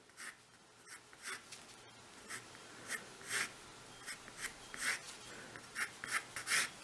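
A pencil sketches lines on paper, drawing a coffee cup and saucer as the page is turned. Repeated scratchy strokes come in short rhythmic bursts, close and fairly quiet, with no talking.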